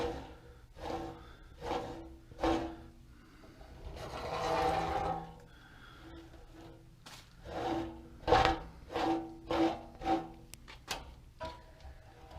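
A plastic Bondo card scrapes Raptor bed liner coating off the metal rocker panel of an early Ford Bronco during a rebuild. It makes repeated rhythmic rasping strokes, loud and close, with one longer continuous scrape.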